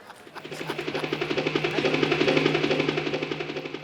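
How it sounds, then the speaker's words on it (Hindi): A helicopter's rhythmic rotor thumping, steady and fairly close, pulsing quickly throughout without any talk. "हेलीकॉप्टर की आवाज?"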